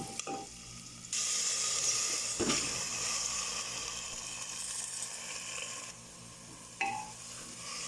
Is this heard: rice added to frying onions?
yes